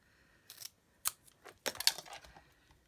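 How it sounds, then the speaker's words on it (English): Scissors snip through card in a few short, crisp cuts, quiet and close up, with small pauses between the snips, and no talking. "Let's just cut a wee bit off that."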